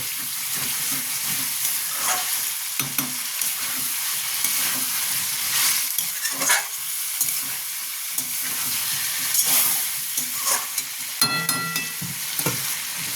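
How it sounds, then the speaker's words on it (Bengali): Chicken stew sizzles and fries in a pan while a utensil stirs it, with a steady hiss broken by scraping and clinking strokes. "একটু কষে নিই, আমার প্রায় কষা হয়ে গেছে।"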